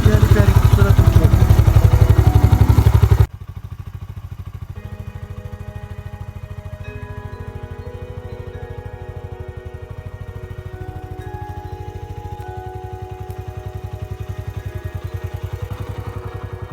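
A motorcycle engine hums and rattles steadily while riding through a village with butterflies, loud at first, then a lower continuous mid-range drone with some clatter, and speech over it at times.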